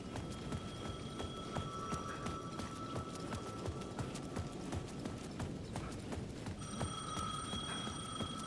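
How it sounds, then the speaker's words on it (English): A payphone rings in the video game Alan Wake 2, a bright electric bell ringing in two bursts over a busy rhythmic clatter of steps, fairly faint and with no voices. "The payphone at the edge of the plaza was ringing again."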